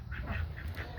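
Ducks quacking in a short burst of about four or five rhythmic nasal quacks, moderately close, over a low background hum.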